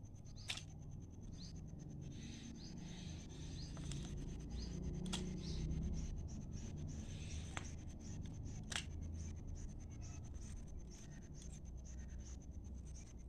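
Scissors snip through a plastic bottle being cut into five strips for hair pins, giving a few sharp clicks and scraping rustles amid quiet handling noise and low background rumble.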